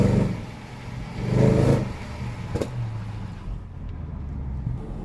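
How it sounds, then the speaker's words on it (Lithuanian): The 5-litre engine of a Jaguar XK with low fuel pressure revs up and settles back, a mid-pitched droning swell that peaks and then holds at a steady idle-like hum, heard fairly close. "šito variklio garsiukas, tai turbūt vienas geriausių"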